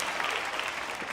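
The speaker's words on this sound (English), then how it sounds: "Please give them both a big round of applause for volunteering." A live session audience applauding volunteers as they return to their seats, a brief, dense burst of clapping from a crowd filling the room.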